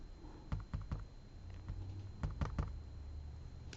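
Computer keyboard keys clicked in quick bursts of taps with short pauses between, close and fairly clear, with a low steady hum underneath and no talking.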